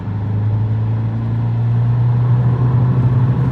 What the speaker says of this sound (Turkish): Şöyle ikinci vites 2000 devirde bastığım zaman 60